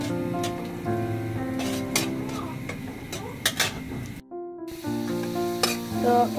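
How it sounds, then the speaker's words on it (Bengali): Chopped garlic fries in a little oil in a wok, giving a steady sizzle with scraping stirs, heard under background music with a brief silent break near the end. "এটাকে আমি একটু গোল্ডেন কালার করে ভেজে নিব"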